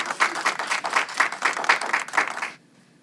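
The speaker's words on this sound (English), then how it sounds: "Give them a round of applause." Applause from a small audience at a gallery exhibit of African dolls and tapestries, close and lively with distinct bursts of clapping for about two and a half seconds before it cuts to near silence.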